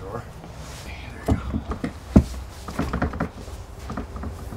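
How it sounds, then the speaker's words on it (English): A door inside an RV under remodel popped open with a few muffled thumps and one sharp knock-like bang, close by, amid rustling and handling noises. "I'm gonna pop that door."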